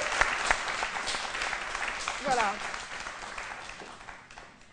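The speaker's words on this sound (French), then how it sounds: "on l'applaudit" Studio audience applauding a young female guest on a French-language midday comedy talk show, sustained crowd clapping throughout while someone speaks over it.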